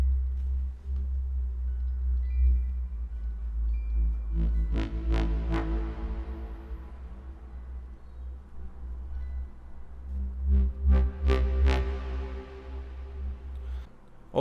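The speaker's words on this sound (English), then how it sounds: "Another element that is put before the main chorus is also bass, but actually more of a horn" A horn-like synth bass made in Vital for a remix: low, sustained tones with brighter swelling notes in two phrases, fairly soft and alone.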